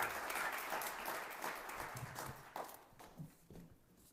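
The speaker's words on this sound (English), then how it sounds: "How about a round of applause for Phil?" A crowd claps together in a dense burst of applause that gradually thins and fades out toward the end.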